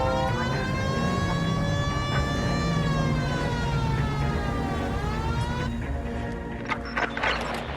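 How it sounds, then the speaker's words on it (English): A police car siren in the LA Noire video game wails in long rising and falling sweeps, loud and close, with a sharper burst of noise near the end. "Hit the siren."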